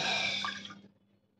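Water pours into a bowl for tea in a brief, soft splashing stream that tapers off within about a second, faint and close, with no voices.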